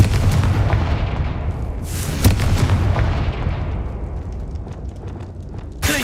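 A fiery Confringo spell explosion in the Hogwarts Legacy video game, a loud, close roaring blast with a deep rumble and a crackling burst partway through, fading slowly, then a sharp new hit at the end.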